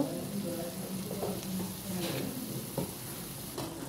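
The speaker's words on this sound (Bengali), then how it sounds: "এবার নাড়াচাড়া করে নেব" Whole green chillies and a pinch of chilli powder are stirred in a hot cooking pan, a soft close sizzle with light scraping strokes and a few clinks, fairly quiet throughout.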